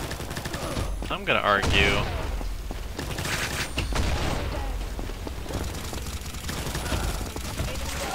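Gunfire in the shooter game Combat Master: rapid bursts of shots with impacts and game effects, fairly loud and close, while a player's voice talks briefly over the action.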